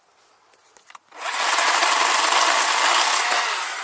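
A loud, steady electric saw whine kicks in after a few light clicks and holds a strong, buzzy roar as a Worx electric chainsaw cuts through wood.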